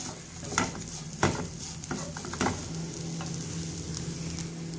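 A spoon stirs and mixes a dish with coriander leaves in a sizzling pan, giving several scraping knocks over a steady close frying hiss, with no voices.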